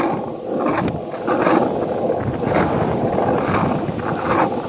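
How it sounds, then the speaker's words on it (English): Strong gusting wind buffets the microphone outdoors during a stormy skateboarding session, a loud continuous low roar that surges and eases throughout with no talk. "Fuck, it's windy."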